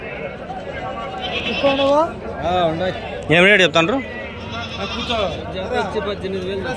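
Goats bleat repeatedly in wavering cries over a crowd of people talking at a goat market in Angallu, one loud nearby bleat standing out midway.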